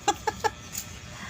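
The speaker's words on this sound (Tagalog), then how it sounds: "Manok." Three quick clucks from a single chicken close by, then a brief faint squeak, with quiet background noise and no talking.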